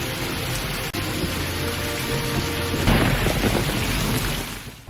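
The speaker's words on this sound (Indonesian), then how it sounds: "Di tengah hujan yang sangat lebat," Heavy rain in an animated donghua, a dense continuous roar of downpour that swells into a deeper rumbling surge partway through, loud and with no voices over it.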